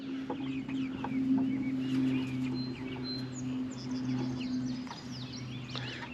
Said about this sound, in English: What's up, chickens?